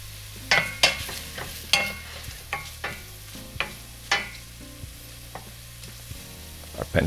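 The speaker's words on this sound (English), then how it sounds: "Put the butter over low heat." Butter melting in a pan over low heat, its soft sizzle running steadily beneath repeated stirring and scraping knocks from a utensil.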